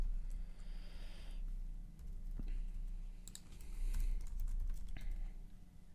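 Someone types on a computer keyboard, entering a host name or IP address. The clicks are soft and quick, coming in short runs over a low, steady background hum.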